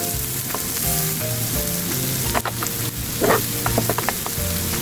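Chopped onion frying in hot oil in a pan for a spicy Gulsha fish bhuna curry, a steady close sizzle broken by repeated stirring scrapes and clinks of the spatula, with no talking.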